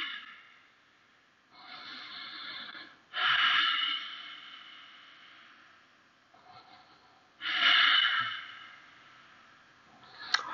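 Heavy, forceful yoga breathing comes close to the microphone, long loud inhales and exhales through the nose and mouth in slow cycles, with quieter breaths between the strong ones and no talking.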